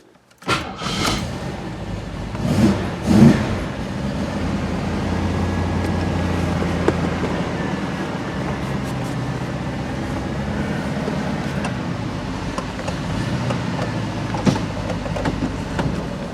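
A restored car sets off on a test drive from a workshop, its engine running steadily under a broad rumble of road and cabin noise for the whole stretch, with a few louder knocks near the start.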